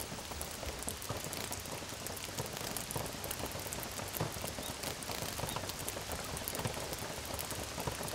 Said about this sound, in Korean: 밤사이 내리기 시작한 봄비에 많은 것이 씻겨 내려간다.